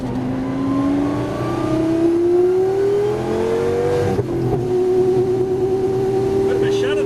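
A Lamborghini Gallardo LP 570-4 Superleggera engine drones loudly from inside the cabin, its pitch climbing steadily through the gears, then a brief jolt midway as the gearbox shudders on a shift before the tone settles lower.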